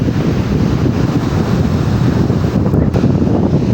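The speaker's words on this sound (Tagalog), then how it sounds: "Sobrang lakas pa rin ang hangin mga idol, oh." Strong monsoon wind roars and buffets the microphone over the continuous wash of waves breaking past a pier, loud and unbroken throughout.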